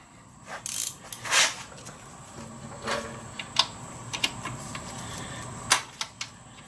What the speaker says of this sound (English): This is the oil pan plug. It's a 17mm. And I'm going to use a 6-sided socket on it.